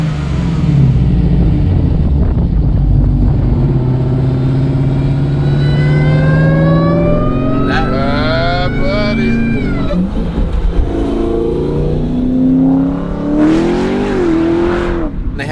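A Hennessey-tuned Dodge Hellcat revs and accelerates hard, its supercharger whine climbing through several gears over a loud, continuous engine roar, heard close from inside or near the car.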